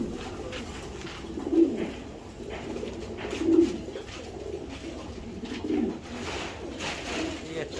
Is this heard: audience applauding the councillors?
no